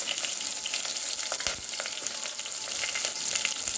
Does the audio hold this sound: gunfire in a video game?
no